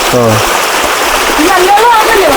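Water flows and splashes in a forest river on the trail to Agasthyarkoodam, a steady close wash of moving water heard throughout, with voices talking over it.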